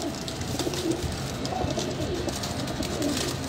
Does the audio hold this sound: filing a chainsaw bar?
no